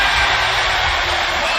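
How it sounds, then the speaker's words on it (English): A basketball arena crowd at a Nets versus Rockets game reacts to a step-back shot with a steady, dense roar of murmuring and rising voices that carries evenly throughout. "You can hear the oohs and ahs from the crowd when he stepped back."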